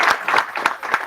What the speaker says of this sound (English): Let's give a round of applause for all the panelists.